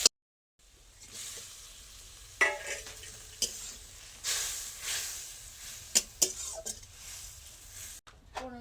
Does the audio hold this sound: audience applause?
no